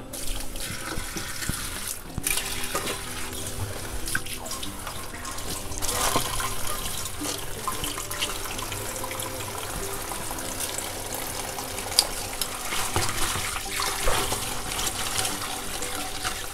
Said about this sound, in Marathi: मोठ्या भांड्यात घेऊन ती स्वच्छ चांगली खळखळून धुवायची आहे